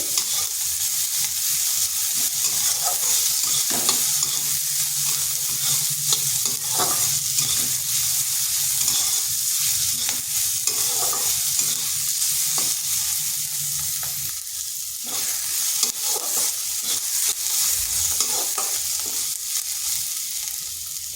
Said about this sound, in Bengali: পেঁয়াজটাও একটু ভেজে নিচ্ছি